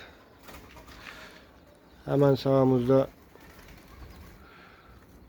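Turtle doves and pigeons coo in a garden, one loud, close, rhythmic coo in two pulses standing out mid-clip, with someone speaking briefly around it.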